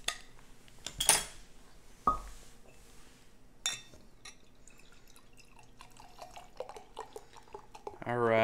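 Can or bottle of Karl Strauss Belgian-style brown ale popped open and poured, a sharp crack followed by clinks and a dripping, gurgling pour building toward the end, close and moderately quiet.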